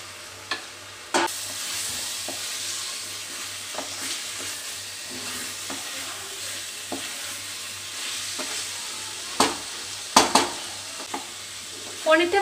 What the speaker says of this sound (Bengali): এবার আমি এর মধ্যে এই ভেজে রাখা পনিরগুলো ছেড়ে দিচ্ছি